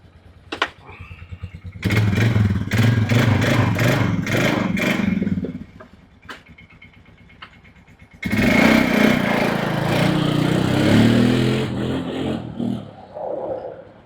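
A 1999 Polaris Sportsman ATV with CV axles roars through two long, loud bursts of running and revving close by, a quieter idling gap between them, with engine clatter and no talk.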